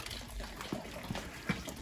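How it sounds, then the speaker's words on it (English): Water drains from a Burnham steam boiler, a continuous trickling, gushing flow with a few distinct splashes or knocks, close by and without talk. "I'm draining down the boiler from there."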